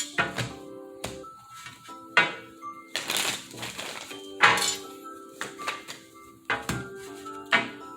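Tarot cards being shuffled by hand in repeated bursts, crisp riffling and soft thumps of the deck, close and fairly quiet, with no talking.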